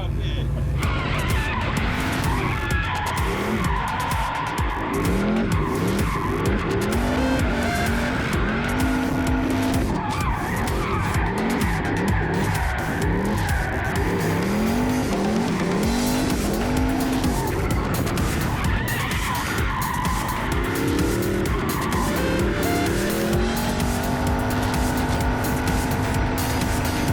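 A car slides under handbrake with long, loud tire squeals and an engine revving close by throughout. Several squeals rise and fall in pitch, and voices talk over the racing noise.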